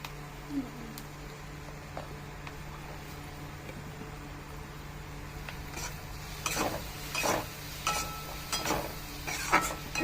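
Capsicum frying in a hot pan for a paneer bharta, a soft low sizzle that builds after a few seconds, with bursts of stirring and scraping against the pan toward the end.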